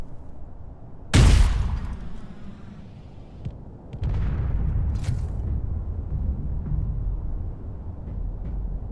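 A rocket launches in the Space Engineers video game with a sharp, loud blast, then a heavier rumbling explosion follows a few seconds later and trails off into a sustained roar.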